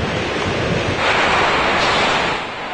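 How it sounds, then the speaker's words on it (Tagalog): Strong typhoon wind with heavy rain during Super Typhoon Yolanda, a loud, steady broadband roar of gusts and downpour that swells midway and eases slightly at the end, with no voices. "dahil tumitindi na ang lakas ng hangin at buhos ng ulan"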